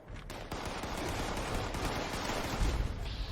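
Explosive pump action shotgun firing in Fallout 76: a few sharp blasts open into a loud, dense, sustained roar of booming explosions that stays heavy to the end.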